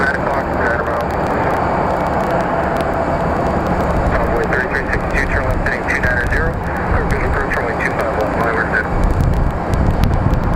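A jet airliner at Sky Harbor International Airport in Phoenix, a loud continuous engine roar and rumble with wind noise on the microphone, heard steadily throughout.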